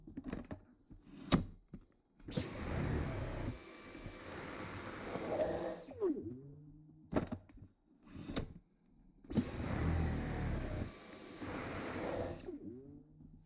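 A Dyson V10 cordless vacuum cleaner on its medium setting, two separate bursts of steady whooshing motor noise, each lasting a few seconds, separated by clicks and thumps of handling.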